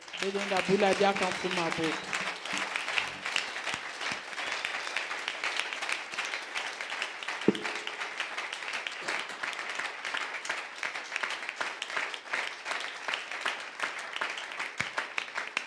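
A church congregation applauds in praise of the Lord, with dense, sustained clapping from many hands filling the room. A voice briefly sounds at the start.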